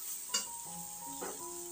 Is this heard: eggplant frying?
yes